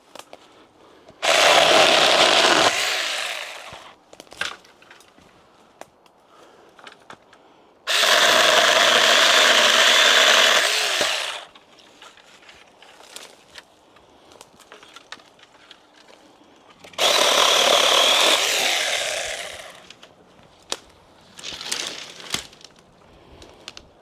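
A cheap 6-inch mini chainsaw cuts wood in three loud bursts of several seconds each, with quieter clicks and handling noise in the gaps between cuts.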